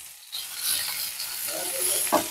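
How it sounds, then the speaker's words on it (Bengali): Shrimp, peas and onion stalks fry together in a pan, a steady bright sizzle with a brief scrape of stirring near the end, close and without talk. "আর সব কিছু একসঙ্গে ভালোভাবে ভাজবো।"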